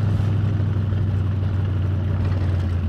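A 1932 Ford 3 Window Coupe street rod engine rumbling low and steady close by, the accelerator feathered so the deep idle barely swells, with no pauses.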